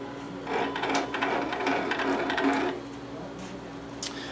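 An embroidery machine shifts to another needle, giving a short whirring mechanical run of a couple of seconds followed by quieter clicks and a faint room hum.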